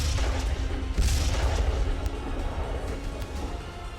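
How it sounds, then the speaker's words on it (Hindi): Deep, booming explosions at a burning gas station rumble over a continuous roar of fire and noise, with one stronger blast standing out early. "बीच बीच में धमाके भी हो रहे हैं।"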